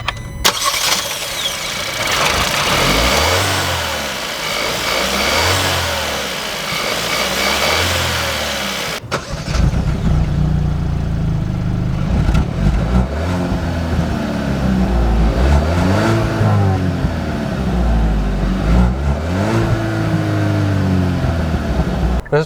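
A 2021 Hyundai Tucson with a 1.6L turbo gasoline engine and seven-speed dual-clutch transmission accelerates on the road, its engine note climbing and falling repeatedly through gear changes over steady road noise.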